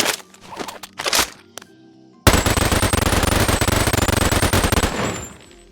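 An MG-42 machine gun fired full-auto in the VR game Boneworks: after a few quieter handling knocks, a loud, unbroken rapid-fire burst rattles on for about three seconds.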